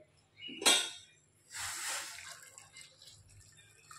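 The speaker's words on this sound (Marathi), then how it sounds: "आता यात लगेचच मी पाणी घालते" Hot water poured into mutton nalli nihari in a pressure cooker: a sharp metallic clink, then a short, soft splashing pour that fades within a couple of seconds.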